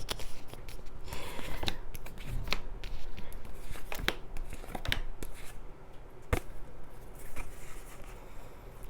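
Tarot cards being shuffled close up, with quick riffling bursts and sharp snaps of cards at an irregular rhythm, no talking.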